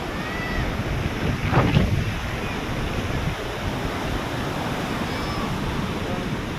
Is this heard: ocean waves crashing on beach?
yes